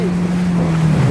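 A boat engine drones loudly at close range during a sailboat race off Gloucester, Massachusetts, a steady low hum with wind and water noise, and no voices.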